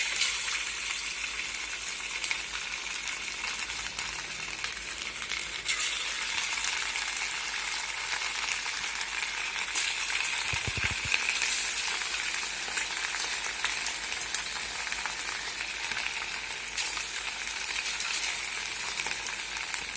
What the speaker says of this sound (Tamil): இப்போ எண்ணெய் சூடாகிடுச்சு, நம்ம சிம் பண்ணிவிட்டு இப்போ ஒரு சிக்கனாக நம்ம எடுத்து நம்ம போட்டுடலாம்